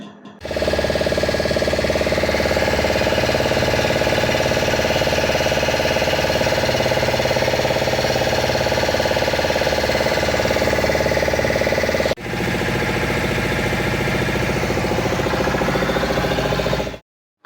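Motorboat engine running steadily on a boat ride along a forest shoreline, a loud continuous mechanical drone with a brief dip near the end, no talking over it.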